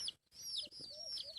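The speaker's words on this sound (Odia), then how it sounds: "କୁକୁଡ଼ା ଛୁଆମାନେ ଏଠି ଘୁରି ବୁଲୁଛନ୍ତି" Chicks wander about outdoors, giving high thin cheeps and soft clucks close by in a short cluster of calls.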